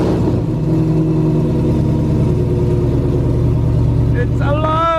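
A car engine cranks and fires up after a fuel pump repair, settling into a loud, close, steady running drone, with a voice speaking over it near the end.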